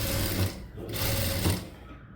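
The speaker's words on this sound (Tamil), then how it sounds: "ஏன்னா இது ஸ்டிச் பண்ண போகிறோம்" An electric sewing machine stitches a blouse neck. Its close, steady whirring runs with a brief slowdown partway through, and no one speaks.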